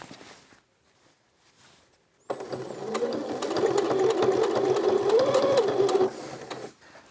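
A sewing machine stitches a waistband onto an A-line skirt, starting abruptly after a quiet moment and then running steadily and close for about four seconds before stopping, with no talk.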